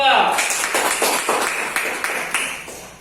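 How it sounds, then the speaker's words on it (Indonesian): Classmates clap for a student group in a classroom lesson, a run of distinct, fairly regular claps that gradually soften, with voices talking over them. "Beri tepuk tangan dulu buat kelompok"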